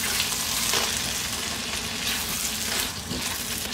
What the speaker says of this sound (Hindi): अच्छी तरह से भूनेंगे ताकि जो दाल में स्मेल है वो खत्म हो जाए